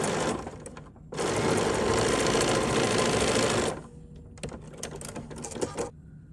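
A sewing machine stitches quilt squares together in pairs, whirring in a steady, continuous run for a few seconds, then slowing into shorter, broken bursts of stitching. It sounds close, and no one speaks.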